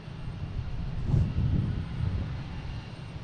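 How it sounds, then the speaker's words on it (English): A JetBlue Airbus A220 jet takes off at Boston Logan airport, a distant low rumbling roar that swells to a peak and then stays steady as the aircraft moves away, with no talk. "we got JetBlue taking off to Atlanta, flight 897, an A220"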